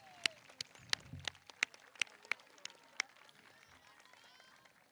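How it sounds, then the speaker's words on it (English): Sparse, distinct claps ring out one after another at an 8th grade middle school graduation ceremony, each sharp and fairly close, spaced about a third of a second apart, with quiet room tone between them. "Let's clap, everybody."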